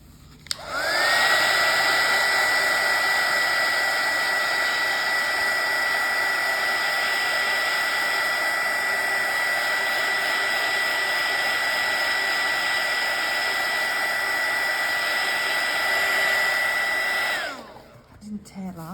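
A hair dryer blows steadily and loudly for about seventeen seconds, drying a printed tea bag paper page for a junk journal, starting up with a rising whine and cutting off near the end.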